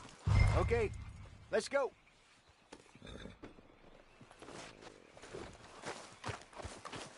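Horse hooves clip-clop in Red Dead Redemption 2 alongside a loud, close whinny near the start and another shortly after, with someone talking over the steady hoofbeats.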